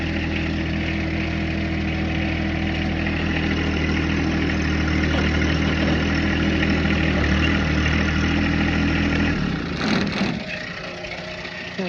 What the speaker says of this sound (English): Now we'll move the tractor back.